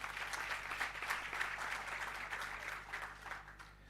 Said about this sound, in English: we should give a round of applause to all the good work that went into that